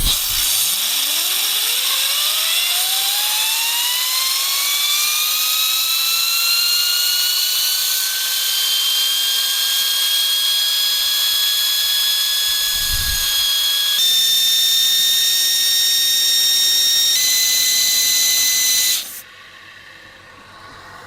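A 3D-printed resin turbine driven by compressed air at 90 psi spools up with a loud rising whine and hiss, settling into a steady high-pitched scream that steps up in pitch before cutting off near the end.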